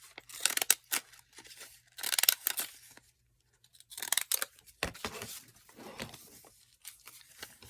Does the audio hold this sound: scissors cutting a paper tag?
yes